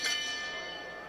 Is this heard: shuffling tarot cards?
no